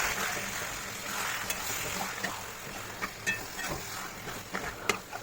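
Beef lungs being stirred as they fry with black pepper in a pan, a steady sizzle throughout broken by soft scrapes and clinks of the spoon, close and moderately loud with no voices.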